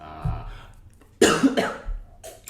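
A single harsh cough bursts out close by, followed by a shorter rough throat-clearing sound, after a moment of low murmuring.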